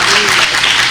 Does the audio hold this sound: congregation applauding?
yes